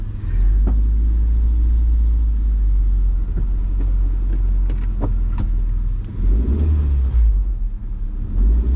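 A rebuilt Honda CR-V drives along with a steady, loud low engine rumble that swells and dips as it moves through the gears, with a few light clicks and knocks from the cabin.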